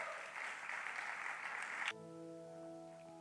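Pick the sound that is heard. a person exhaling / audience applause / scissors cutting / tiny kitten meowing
audience applause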